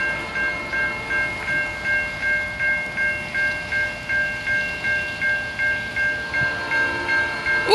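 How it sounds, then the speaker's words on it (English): A sustained, slightly odd-toned horn from a train engine near Swan Creek Road holds steady throughout, over a rhythmic rumbling pulse of passing rail cars. "What a weird sounding horn."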